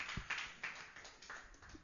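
A church congregation claps in praise of Christ during a Spanish-language sermon, a quiet, loose scatter of hand claps at a distance with no talking.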